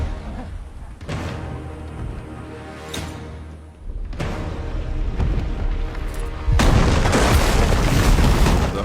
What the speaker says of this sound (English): the King's Landing gate is obliterated by dragon fire